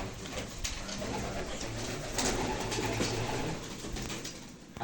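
Pigeons coo steadily in a loft where eggs sit on upper ledges, a soft continuous murmur of overlapping calls at close range under a faint background hiss.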